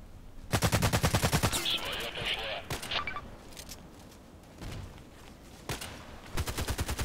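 Gunfire in the online shooter game Contract Wars: repeated rapid automatic bursts, loud and close, separated by brief pauses and softer single shots, with some game noise between the volleys.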